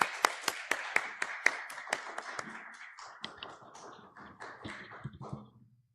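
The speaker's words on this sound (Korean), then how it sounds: "우리 박수로 함께 맞아주시면 감사하겠습니다" A church congregation claps to welcome the pastor at a Sunday service, sharp separate claps at first that thicken into looser, fading applause over several seconds.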